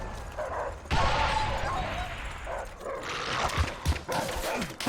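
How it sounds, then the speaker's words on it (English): Dogs bark and yip repeatedly in a Call of Duty World at War multiplayer match, short sharp barks coming in bursts at moderate volume amid game noise, with a voice talking over them. "these dogs are annoying as all can be"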